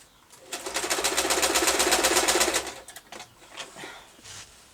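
A sewing machine knocks in a fast, even rattle while stitching, a steady run of about two seconds that stops; softer, scattered handling noises follow, with no talking.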